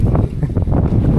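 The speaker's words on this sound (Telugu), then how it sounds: "చాలా గాలి వేసేస్తుంది" Strong wind gusts buffet the microphone beside the water on a Vizag beach trip, a brief, steady, rumbling roar with no voices heard.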